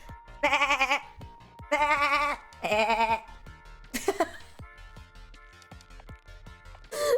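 A woman imitates a sheep with several loud, wavering bleats in short bursts, separated by quieter gaps and a few soft clicks.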